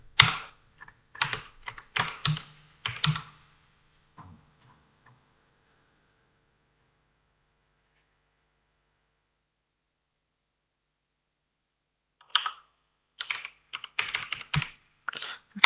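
Fingers type code on a computer keyboard in two quick bursts of crisp, close clicking and clacking, separated by several seconds of near silence.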